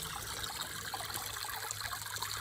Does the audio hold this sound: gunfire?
no